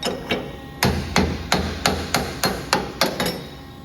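A hammer taps a tool nut on an Ercolina CE60H3 tube bender set up for 2-inch square tube, giving about ten sharp metallic knocks in a quick, even rhythm.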